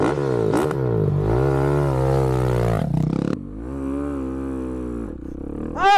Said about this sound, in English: First time ripping the throttle on this modded 690 SMC R.